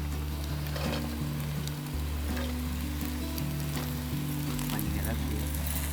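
Onion and chopped beans sizzle in a pan of fried rice cooked outdoors on a rooftop, with a constant close crackling hiss. A voice talks steadily over the frying.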